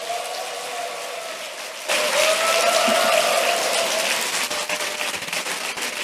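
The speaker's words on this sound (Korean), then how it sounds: "박수로 부탁드리겠습니다" Church congregation at a morning prayer service applauding as the pastor comes forward. A quieter passage with a faint tonal hum gives way to a fuller burst of clapping that continues steadily.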